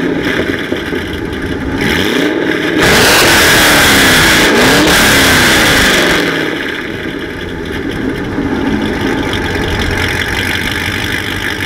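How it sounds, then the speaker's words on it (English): A C6 Corvette fitted with Speed Engineering long tube headers and a Borla ATAK exhaust idles with a rumble, then revs hard for a few loud seconds before settling back to a steady, throaty idle. "using the Speed Engineering long tube headers in combination with the Borla ATAK exhaust, which will help it sound a little something like this"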